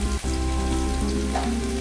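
Garlic fries in a pan, giving a steady, even sizzle throughout with a faint clink near the start and no talking.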